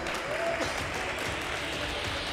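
Scattered audience clapping in an arena at an elite national boxing championship, fairly faint and uneven over a murmur of crowd and background voices.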